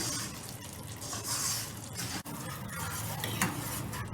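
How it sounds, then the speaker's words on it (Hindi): Semolina roasting in ghee for a set sweet halwa, with steady scraping and stirring in a pan and faint sizzle, continuous throughout with a brief dip midway. "बस घी के साथ भी इसको हमने 1 से 2 मिनट भूनना है।"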